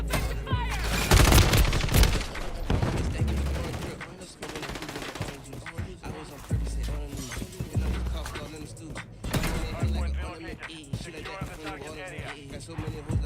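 Gunfire in Call of Duty Warzone, loud bursts of rapid automatic shots in clusters with short pauses, mixed with in-game voices and a rapper's vocals over a backing track.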